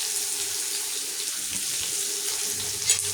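Steady broadband hiss of chopped onion sizzling in hot oil for rava upma, continuous and fairly close, with no voices.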